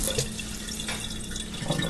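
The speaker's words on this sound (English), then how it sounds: "I'm going to add a little more water" Water poured into a cooking pot of beans and rice, a steady, close splashing stream running without a break for about two seconds, with no talking.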